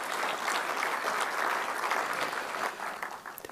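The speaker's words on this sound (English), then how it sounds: "Let's have a big round of applause for Dr." An audience applauds a physician, Dr. B.M. Hegde, at a talk on healthy living; dense, steady clapping fills the room at full volume, thinning slightly near the end.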